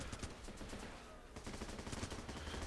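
Machine gun fire in the video game Running With Rifles sounds as a dense, continuous rattle of rapid shots, steady and fairly distant, with a brief dip before the firing resumes.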